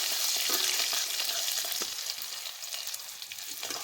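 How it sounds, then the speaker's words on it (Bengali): Spices and crushed garlic sizzle gently in hot oil in a pan for a fish curry, a steady close frying hiss with occasional stirring scrapes and no talking. "একটু হালকা হালকা ভাজবো।"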